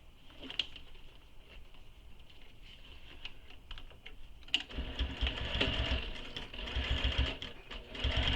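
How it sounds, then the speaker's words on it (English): A sewing machine stitches the circular seam of a lined bag with a zipper, its rapid mechanical whirring and clatter starting light and then growing louder and steadier midway, close up with no talking. "So now we're going to sew this with the seam allowance given in the pattern."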